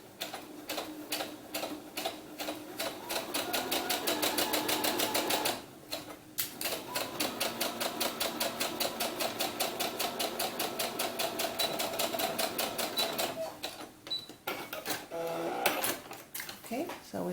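A sewing machine stitching the neckline of a doll blouse gives a steady, rapid, rhythmic whirring clatter, running in long runs with a brief stop midway and a few handling knocks near the end.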